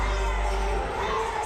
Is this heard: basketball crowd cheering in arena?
yes